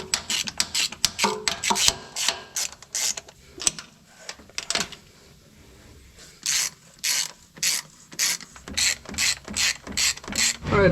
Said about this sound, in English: I got our hose clamp slipped around so they won't hit this filter now